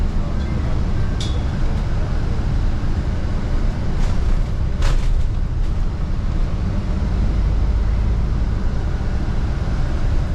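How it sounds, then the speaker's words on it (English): Onboard an Alexander Dennis Enviro400 MMC double-decker bus on route 81 between Walmer and Deal in Kent, a constant low road rumble and engine drone with a few light rattles and clicks. "we're now on board a E400 MMC, which is on the 81, going between Walmer and Deal"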